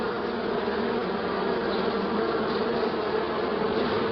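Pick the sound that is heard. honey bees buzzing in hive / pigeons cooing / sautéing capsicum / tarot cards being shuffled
honey bees buzzing in hive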